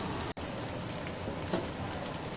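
Spice-coated fish frying in oil in a pan, a dense, even crackling sizzle heard close and continuous, with one brief break and no talking.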